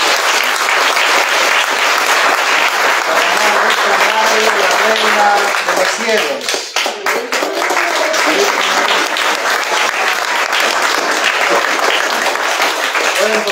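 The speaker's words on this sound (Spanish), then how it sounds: "Un aplauso para San Francisco." Congregation at a charity dining hall on the Pardon of Assisi feast day gives Saint Francis a long, loud, continuous round of applause, briefly thinning midway, with voices talking under it.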